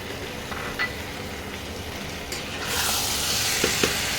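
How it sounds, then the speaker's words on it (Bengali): Mutton being sautéed with small pineapple slices for Benarasi mutton, a steady soft sizzle that swells louder and brighter partway through, with faint stirring clinks near the end. "এই মাংসটাকে এই আনারসটা দিয়ে কষাতে হবে"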